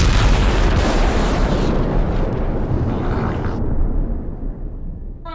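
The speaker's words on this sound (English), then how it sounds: "This thing is going to explode." An overcharging energy core explodes in a video game, a loud, sustained booming blast that rumbles and roars for several seconds before gradually thinning out and fading.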